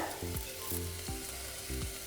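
Steady crackling sizzle of curry leaves dropped into hot oil, continuous and close, with a few low clanks of a utensil against the pan.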